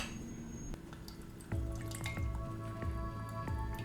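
Lime juice pours and drips into a glass while a mojito is mixed, a faint, close trickle of liquid with small splashes and drips that grows slightly louder partway through.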